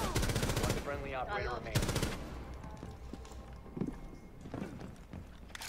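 Rapid automatic gunfire rattles in close, dense bursts in Rainbow Six Siege during a tense one-versus-five ranked round, followed by quieter scattered shots and footsteps, with a voice talking underneath.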